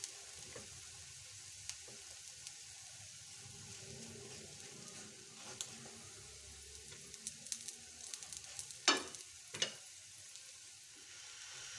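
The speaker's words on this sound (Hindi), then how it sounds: "पराठे को आपने इसी तरह घुमा के इसको आपने कुक करना है" An aloo paratha sizzles and fries on a hot pan, a steady, soft crackling hiss with a few brighter pops near the end.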